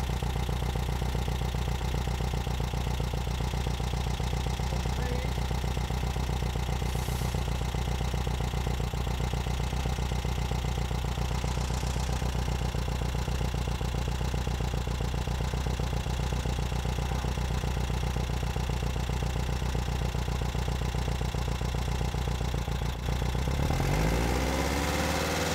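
Idling car engine with a 009 distributor being timed, a steady mechanical hum and clatter running evenly for a long stretch, then a sharp rev near the end as the throttle opens, close up with no talking.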